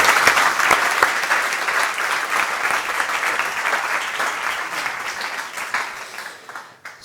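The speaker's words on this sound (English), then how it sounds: "Another round of applause for Paul Falk." A TEDx audience in Lisbon gives a sustained round of applause for a speaker, a dense, loud wash of many hands clapping that tapers off toward the end.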